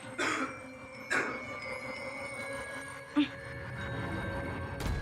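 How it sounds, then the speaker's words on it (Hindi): A woman coughs loudly in a few harsh bursts at night, set against a quiet, hushed background with faint hum. "ये इतनी जोर से फूल खांस रही है क्या?"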